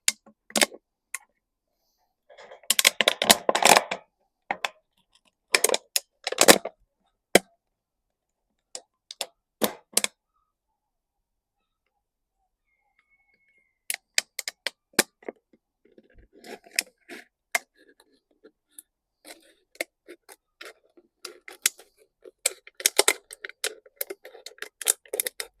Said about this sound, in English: we're going to cut so far down, maybe this rim here, be a nice rim, so we can cut all the way around it